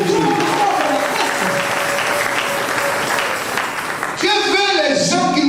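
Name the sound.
congregation applauding the Lord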